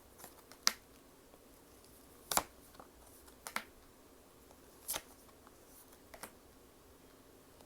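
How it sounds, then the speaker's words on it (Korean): Tarot cards being drawn and shuffled, quiet sporadic crisp snaps and flicks of card stock separated by near-silence, close and faint. "추가 카드 더 뽑아보도록 할게요"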